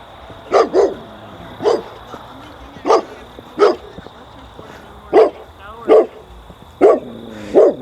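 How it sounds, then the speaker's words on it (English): A dog barks repeatedly at a homeless camp cabin in Montana, about ten sharp, fairly close barks spaced at irregular intervals over a steady background hum. "Dog's mad at me."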